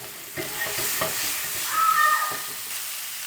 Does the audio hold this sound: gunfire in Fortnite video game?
no